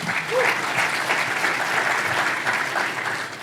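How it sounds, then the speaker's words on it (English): Sustained applause from a conference audience for a panel at a working lunch session, a dense steady wash of many hands clapping at full volume throughout, with a faint murmur of voices underneath. "Round of applause for our panel."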